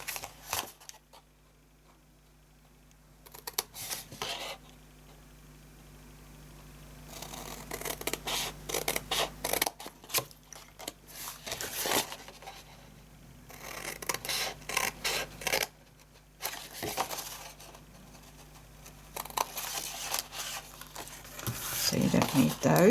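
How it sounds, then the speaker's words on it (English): Scissors snip and paper rustles as pieces are cut away from cardstock for a pencil-case style gift box, close crisp cutting strokes in clusters with quiet gaps between. "I'm going to cut away those 3 pieces."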